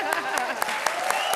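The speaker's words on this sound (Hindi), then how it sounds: "ताली बजाओ ना फिर" Short burst of audience applause at a comedy show on stage, rhythmic clapping from a crowd with voices mixed in underneath.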